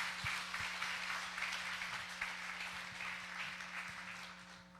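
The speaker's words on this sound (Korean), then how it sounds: "우리 강사 목사님 나오실 때 할렐루야 박수로 맞이하시겠습니다." Congregation applause welcoming a guest pastor at a church revival meeting, a broad steady wash of clapping with a low hum beneath, gradually fading toward the end.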